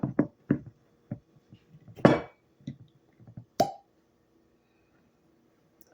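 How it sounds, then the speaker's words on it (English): A cork pops out of a bourbon cream liqueur bottle with a sharp plop, followed by a few lighter clinks and taps of glass nearby. "A nice pop."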